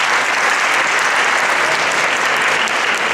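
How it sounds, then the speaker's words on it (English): A high school football team gives a loud, dense round of applause, the clapping steady and unbroken for about three seconds with no speech over it. "Give yourselves a round of applause."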